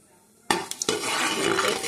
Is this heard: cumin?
yes